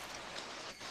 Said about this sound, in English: Yes, rain. it's pouring.